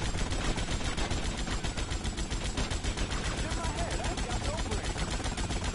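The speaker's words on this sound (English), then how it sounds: "Oh, shoot the barrels!" Gunfire in GTA Vice City as barrels are shot: rapid, continuous bursts of repeated shots, fairly even in loudness throughout, mixed with dense game sound.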